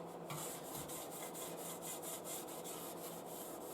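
A thinners rag rubs around a wheel trim with rapid, steady back-and-forth wiping strokes. The scrubbing is close but quiet, with no voices.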